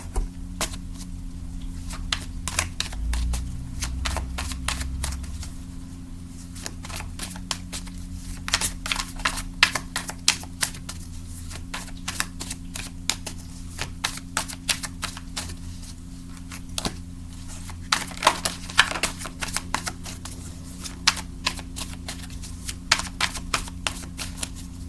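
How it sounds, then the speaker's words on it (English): A deck of cards being shuffled up close, giving a long run of quick riffling clicks and flutters over a steady low hum, with no voices. "So I'm just gonna finish the shuffle"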